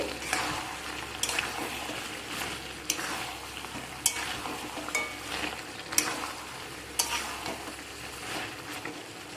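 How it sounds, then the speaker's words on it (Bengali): Ginger-garlic paste and onions sautéing in a pan, a soft continuous sizzle punctuated by regular scraping strokes of a spatula stirring the mixture. "দিয়ে সব কিছুকে ভালো করে একসাথে কষিয়ে নেব"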